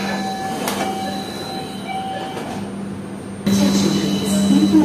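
A driverless LRT Jabodebek light rail train hums and rumbles steadily with faint wheel squeal, growing louder midway as it gathers speed, heard from inside a carriage.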